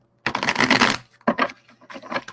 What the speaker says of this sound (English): All right, I'll get my cards shuffled in here